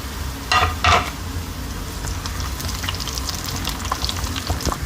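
Red chillies sizzle in hot oil for a daal tempering, with two sharp crackling bursts early on, then a steady close frying hiss with small pops.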